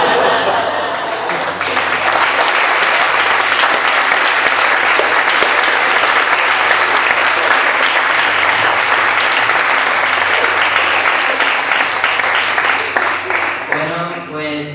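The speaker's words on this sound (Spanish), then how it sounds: "moltes gràcies per els vostres aplaudiments" Sustained, loud audience applause fills a small venue after a storytelling dinner performance, steady clapping from many hands for about fourteen seconds before fading as a voice begins at the end.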